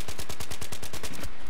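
Rapid automatic gunfire from the PC game Battlefield 3 multiplayer, a loud close burst of about a dozen evenly spaced shots in quick rhythm, stopping abruptly near the end.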